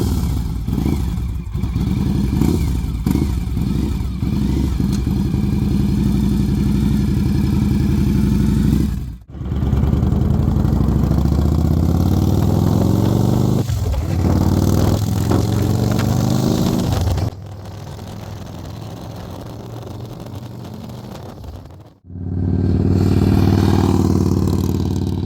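A fuel-injected 2004 Victory Vegas motorcycle engine roars steadily while riding, loud and close, with heavy wind buffeting. The throttle drops off briefly a few times before the engine pulls again, and there is no talking.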